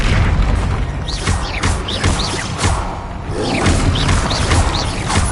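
Spell impacts from Hogwarts Legacy go off in a dense, loud barrage of booming thuds and whooshing bursts that overlap continuously over a roaring battle din.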